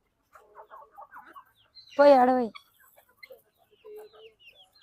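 Farmyard chickens cluck softly and sporadically, with one loud, drawn-out squawk near the middle, while a voice speaks briefly nearby.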